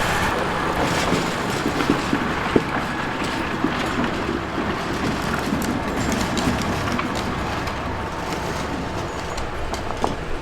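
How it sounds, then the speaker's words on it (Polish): A tractor hauling wood rumbles past a mountain hut on a trail to Stożek Wielki, a loud, continuous low engine drone with rattling that stays steady throughout. "teraz tutaj nam nas zagłusi traktor"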